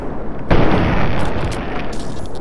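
A loud, fiery explosion in the video game Fallout 3: a sudden booming burst that settles into a sustained roaring rumble of fire.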